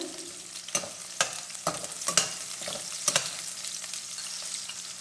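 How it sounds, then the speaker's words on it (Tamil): Ingredients for a prawn gravy fry in hot oil, a moderate sizzle punctuated by several sharp scrapes and taps of a spoon stirring the pan. "இதையே போட்டு கொஞ்சம் வறுக்கலாங்க எண்ணெயில்"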